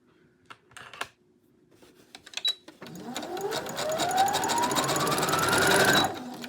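A few scattered clicks and taps come first, then a sewing machine stitching a rolled hem on a maxi skirt starts up and runs continuously, its motor whine rising steadily in pitch before stopping abruptly.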